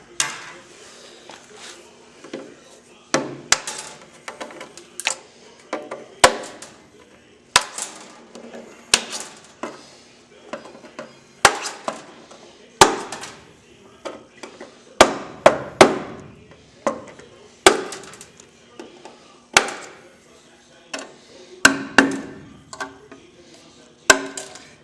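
Metal hammer and punch strikes on a Zenith 601 aircraft wing, sharp irregular blows ringing out every second or so, close and loud, with brief pauses between bursts.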